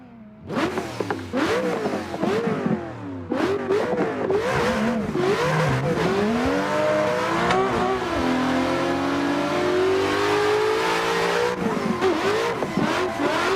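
Ford V8 drift car in Assetto Corsa, engine revving hard through repeated rises and drops, then holding a long high wail during a slide with tire squeal, loud and close with no voices.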